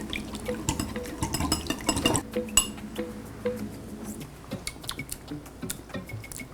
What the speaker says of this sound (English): I'm gonna add my honey. Black pepper. Kosher salt. Whisk that together.